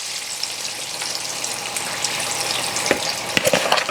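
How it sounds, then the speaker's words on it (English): Plantain slices deep fry in hot oil for dodo, a steady close sizzle and crackle with sharper pops and spatters building toward the end. "You have to deep fry your plantain."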